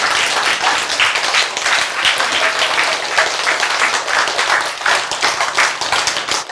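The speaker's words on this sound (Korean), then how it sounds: "박수 치면 되는 거지." Audience applause at a lecture on cancer drugs: dense, steady clapping that is loud and continuous from start to end, with no voice over it.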